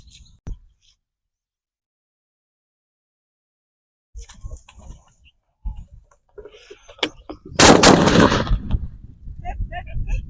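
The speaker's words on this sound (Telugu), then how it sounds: "ఇప్పుడు బ్లాస్ట్ చేద్దాం." Firecrackers strapped to a coconut go off outdoors: scattered pops and crackles lead to one loud, sharp blast, followed by further irregular popping and faint voices.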